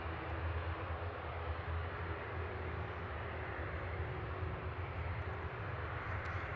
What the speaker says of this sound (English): Touching down in parallel, EasyJet from Bordeaux, flight 2112